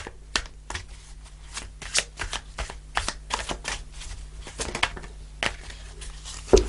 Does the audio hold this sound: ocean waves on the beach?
no